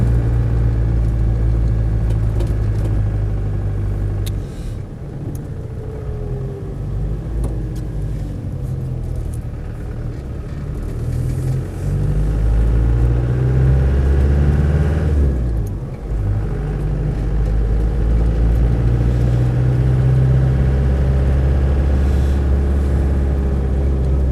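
A Land Rover Defender 110 CSW with the 200TDi turbo diesel, under 100,000 miles, pulls away in second gear, its engine a loud, deep, steady rumble heard close up from inside, with slight dips and swells as it moves.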